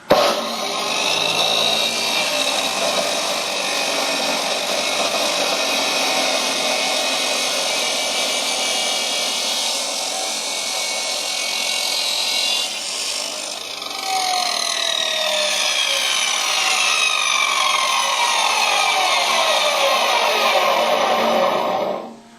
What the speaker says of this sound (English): we're going to go over back to the chop saw here, and we're going to cut some angle to make a clamp